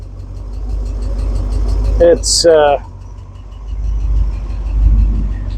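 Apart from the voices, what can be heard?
Porsche 928 engine running with a bad noise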